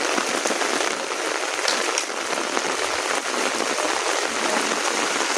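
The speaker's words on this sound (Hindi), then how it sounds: "बहुत अच्छी बारिश हो रही है।" Heavy rain pours steadily on a rooftop, a dense, continuous hiss of drops hitting surfaces close by, loud and unbroken with no voices.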